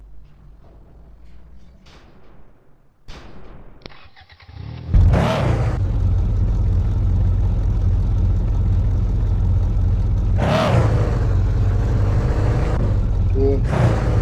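Car engine in a car showroom video game, quiet clicks and short tones first, then a loud engine roars in and holds a steady revving drone, with two sharp bursts of acceleration partway through and near the end.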